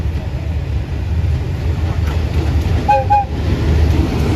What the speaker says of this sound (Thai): วันนี้ได้รถจักรฮิตาชินะครับผมหมายเลข 4522 นะฮะ